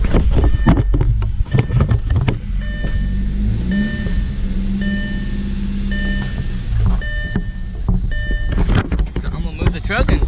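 Audi A4 engine running rough and in need of a tune-up, a steady low idle rumble with clunks and knocks over it, plus intermittent beeping tones and a person talking nearby.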